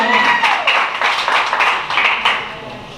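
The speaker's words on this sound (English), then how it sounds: "Can we give her a round of applause, please?" A morning breakfast meeting audience in Sedona, Arizona claps together, a dense, steady patter of many hands close by that holds for the whole stretch and thins slightly toward the end.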